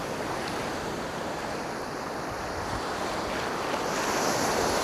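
Strong ocean waves surge and wash onto a shore at night, with a loud, continuous roar of surf mixed with wind noise on the microphone and no pauses in the churning water.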